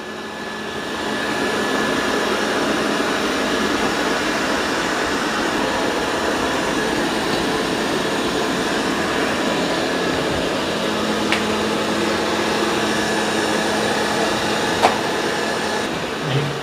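Two Dreame robot vacuums, an L20 Ultra and an X30 Ultra, vacuum and mop a room together, giving a steady, close whirring hum that holds at an even level throughout, with no talking.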